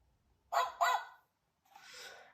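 A dog gives two quick, sharp barks close by, followed after a short pause by a softer, breathier bark.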